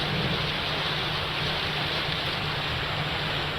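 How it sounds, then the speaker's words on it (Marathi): Heavy monsoon rain pours down on waterlogged Mumbai in a dense, constant roar, loud and unbroken from start to finish. "धुवाधार पाऊस कोसळतो आणि त्यामुळे पाणी साचलेलं आहे"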